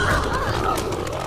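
Deep animal grunts and snorts from a large pig in The Last of Us Part II, fairly loud and close, repeating over a dense game ambience with no talking over it.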